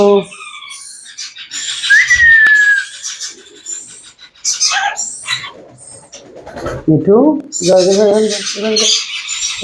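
Baby Indian ringneck parrots in a bird shop give shrill, rasping squawks and chirps in bursts, close by, with someone talking among them.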